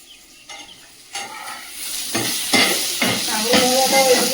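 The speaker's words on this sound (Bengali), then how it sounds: "একটু ভালো করে ভাজো, আর একটু সময় ধরে ভাজো।" Garlic frying in a home kitchen pan, a steady sizzling hiss with stirring scrapes that grows louder and denser as cooking goes on, heard close up with no one speaking.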